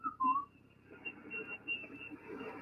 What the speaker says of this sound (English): deciding to whistle over everybody else to tune his radio